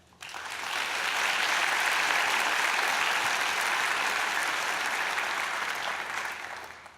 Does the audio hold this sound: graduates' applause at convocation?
yes